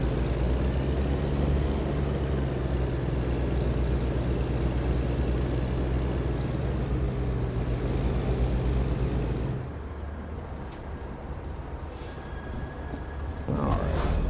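Kenworth W900 truck engine in American Truck Simulator, a loud steady low drone that drops abruptly to a quieter idle-like rumble partway through, with a few faint clicks near the end.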